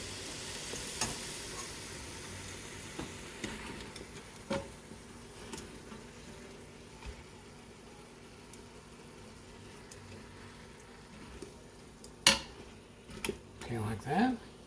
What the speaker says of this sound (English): Throw those apples in. like so. And we can give them just a little bit of a stir.